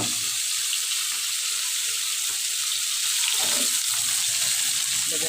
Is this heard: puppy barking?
no